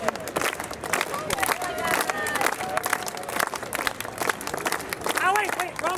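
An outdoor crowd at a street performance in Prague claps in uneven bursts amid cheers and chatter, while a performer's voice and laughter come through over the clapping.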